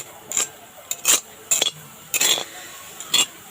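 Sesame seeds roasting in a pan for festival laddus and pitha: a series of short scraping, clinking stirs about half a second apart, moderately close, over a quiet background.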